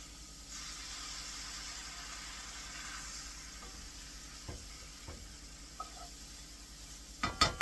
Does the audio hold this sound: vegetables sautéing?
yes